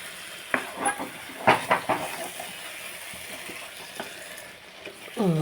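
A masala mixture for prawn biryani fries in a pan with a steady soft sizzle, while a spoon stirs and scrapes against the pan in irregular bursts close by.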